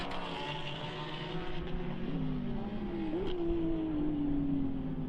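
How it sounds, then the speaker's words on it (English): GT Cup race cars on the Slovakia Ring circuit, engines droning steadily at a distance, with one rising, revving pitch sweeping upward midway and holding as the cars pass, no voices. "This is Peter Kokula actually between between those two GT Cup cars"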